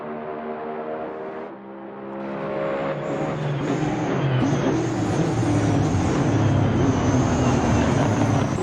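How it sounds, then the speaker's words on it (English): GT3 race cars lap a video game circuit at Sepang, their engines a loud, continuous harmonic drone that dips briefly and then swells into a dense, sustained roar of several cars running together. "The cars begin lap 3 and Shiden is joining the party"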